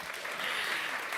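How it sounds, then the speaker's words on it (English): Brief, faint burst of audience applause at the close of a panel discussion on health equity, a steady wash of clapping heard from a distance. "Please give them a round of applause."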